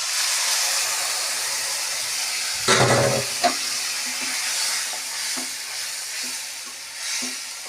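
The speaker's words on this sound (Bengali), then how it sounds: "এবার আমি এর মধ্যে জিরের গুঁড়ো আর হলুদ মিশিয়ে রেখে জল দিয়ে ভিজিয়ে রেখেছিলাম," A water-soaked paste of ground cumin and turmeric hits hot oil with fried onions, bursting into a loud hiss, then settling into a steady close sizzle with occasional stirring clicks.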